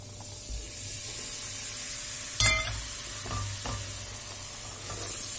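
A cup of sifted flour sizzles and roasts in melted butter in a pot while it is stirred without pause. The frying hiss is continuous and close, broken by a few louder scrapes of the spoon.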